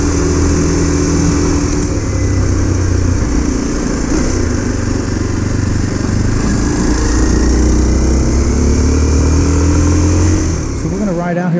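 A Kawasaki KLX 230 motorcycle is ridden steadily along a road in Thailand, its loud, close engine droning and rising in pitch as it accelerates through the gears, while a rider talks over it.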